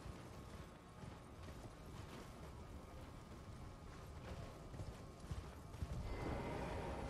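Horse hooves clip-clopping at a steady walking rhythm in the Elden Ring video game, fairly faint against a low ambient rumble, with no talk.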